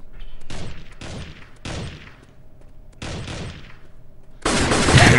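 AK-47 gunfire in a mobile shooter game, loud rapid bursts of automatic fire in four separated volleys, followed by a harsher, denser burst at the end.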